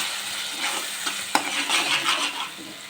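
A spoon stirring a masala mixture into mushroom curry in a pan, scraping and clinking against the metal over a gentle frying sizzle, with one sharp tap midway and no talking.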